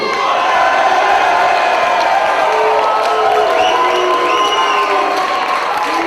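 Wrestling crowd cheering and shouting loudly throughout, a dense, sustained roar of voices with whoops rising above it.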